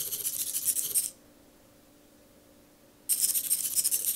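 A servo-driven typing machine whirs and clicks in two short bursts, buzzy servo motor noise mixed with key clicks, close by and separated by a quiet pause of about two seconds.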